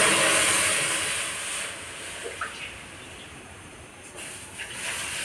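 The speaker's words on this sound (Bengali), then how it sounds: "কড়াইতে জল দিয়ে দিচ্ছি" Water poured into a hot wok while cooking vegetarian bhoger khichuri on a gas stove gives a broad, hissing sizzle that starts loud and slowly fades, with a few faint clinks near the end.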